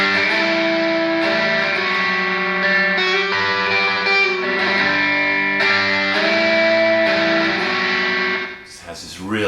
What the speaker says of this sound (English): Definitely cool slapback effect,